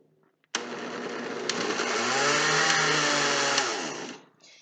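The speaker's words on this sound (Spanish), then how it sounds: "Entonces voy a licuar" A blender whirs at close range for about four seconds, pureeing chunks of yacón tuber with water; the motor spins up sharply, holds a steady loud roar with a changing pitch, then winds down.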